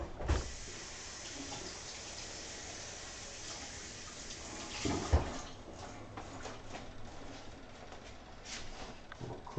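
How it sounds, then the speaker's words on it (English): Water runs from a tap over fresh basil being washed at a sink, a soft steady splashing hiss with a couple of louder knocks and bumps, no one speaking. "Let's wash this basil."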